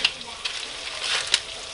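Turkey chili base sizzles and fries in a pot, a soft steady crackle with a few brighter pops, heard up close without talk.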